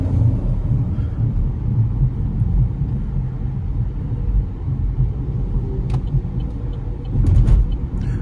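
Interior road noise of a Chevrolet Tracker LT 1.0 2023/2024 driving in the city, a steady low rumble of engine and tires with a few brief bumps and rattles over road studs near the end, no talking.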